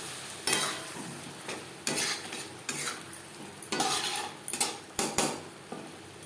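Potatoes being stirred with spices in a pan, a spoon scraping and clinking in repeated bursts of rough scraping over a faint sizzle, close and fairly loud, with no voices.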